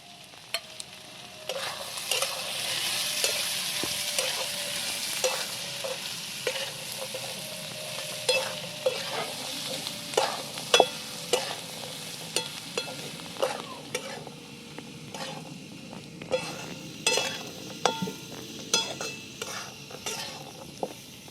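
Peas sautéing with onion, garlic and masala in a home kitchen pan, a steady sizzle with repeated sharp clicks and scrapes of a stirring spoon throughout, close and clear with no talking.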